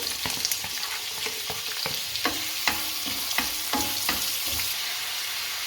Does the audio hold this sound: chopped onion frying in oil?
yes